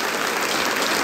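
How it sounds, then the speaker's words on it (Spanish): Church congregation applauding, a short, loud, even wash of many hands clapping together. "Yo ahora sí le pido un aplauso, pero con toda su fuerza, un aplauso con poder"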